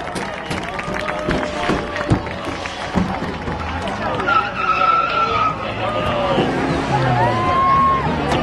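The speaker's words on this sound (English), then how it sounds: "Coming to the checkered flag, the 95 Hobbytown USA machine." Race cars at Langley Speedway roar across the finish line under the checkered flag during an appliance race. Engines drone loudly and tires skid while an announcer talks over the PA and a crowd murmurs faintly.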